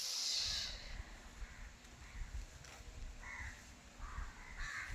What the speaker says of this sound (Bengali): কাকের ডাক।